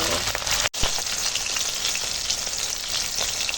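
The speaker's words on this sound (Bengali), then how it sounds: "তেল গরম আর দিয়ে দিলাম মাছগুলো ভেজে নেবো" Loud, dense crackling and spitting of rohu fish frying in hot oil, continuous throughout with a brief dropout near the start.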